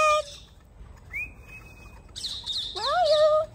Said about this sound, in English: Also, I have my phone now with sounds. If you have a lost bird, go on my YouTube channel. Here, sounds of lost birds right here.